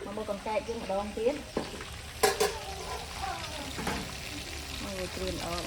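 Frog pieces fry in hot oil with a steady sizzle, stirred now and then with a scrape or knock of a utensil, while a person talks over the cooking.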